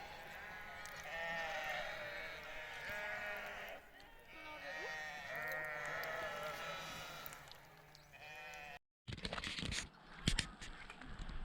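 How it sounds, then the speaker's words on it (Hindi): A flock of sheep and goats bleats continuously on a mountain trek route in Kashmir, many overlapping calls close by and fairly loud, with a brief break near the end followed by handling noise and bumps. "इस रूट पे मुझे शेपर्ड्स और भेड़ बकरियाँ नहीं दिखी हैं, तो पूरा का पूरा एक झुंड लगता है सुन के आ गया है यहाँ पे"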